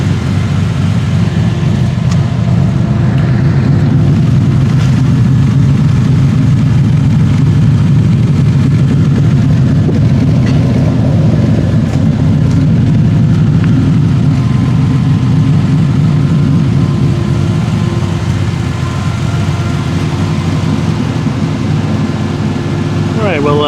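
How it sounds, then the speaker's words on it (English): A 1968 Triumph TR250 engine idles steadily at around 900-1000 RPM, fully warmed up after a radiator restoration. The low, even rumble runs loud and unbroken for the whole stretch, with no other sounds. "we'll let her idle for a little bit longer, and I've got a good RPM actually on the idle"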